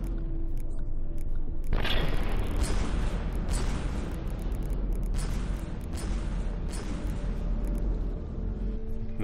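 A submarine's prime gun in the naval combat game From the Depths fires a heavy booming shot, then keeps firing in a steady series of loud reports over a rumbling low background.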